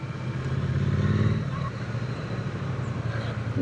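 A Triumph Speed Twin 900 motorcycle engine rumbles steadily while riding, its low throbbing note fairly subdued under wind and road noise.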